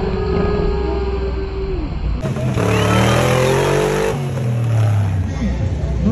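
Race car arriving as the winner of a race at festivities in Gualaquiza, Ecuador: a loud, steady engine drone that rises and swells close by over a few seconds, under crowd and announcer talk.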